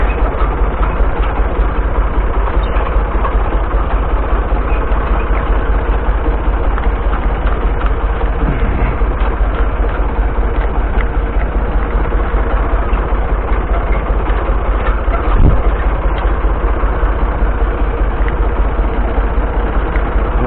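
A tractor engine runs steadily while a hay rake is lowered for raking hay, giving a continuous, loud, low mechanical drone with little variation and no speech.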